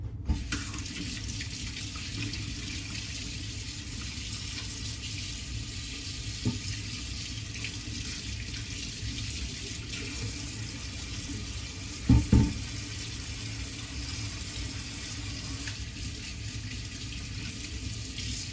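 Tap water running steadily into a kitchen sink while sticky frosting is washed off fingers during cupcake baking, a continuous close hiss and splash with a couple of brief bumps near the end.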